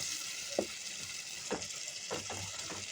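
Fish frying in a pan with spices, a soft steady sizzle broken by a few louder scraping turns and flips of the pieces, quiet and close-up.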